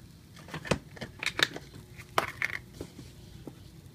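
Fish food flakes are poured into a compact homemade automatic fish feeder, giving close, dry crinkling and crunching rattles in irregular bursts, with no voices.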